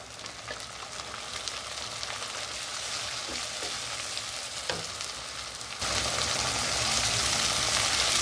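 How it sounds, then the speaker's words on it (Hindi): Tomatoes tipped into browned onions frying in a pan, a continuous close sizzle that swells louder and brighter partway through as the moisture hits the hot oil. "अब हम इसमें टमाटर ऐड करेंगे।"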